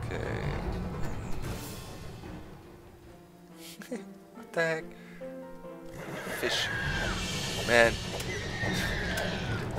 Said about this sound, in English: Those are definitely horse sounds.